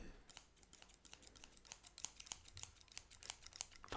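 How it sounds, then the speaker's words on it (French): Quick, crisp snips of scissors cutting paper, a rapid irregular series of sharp clicks and shears, close and fairly quiet with no talking. "Et le fameux bruit de quand on découpe un papier"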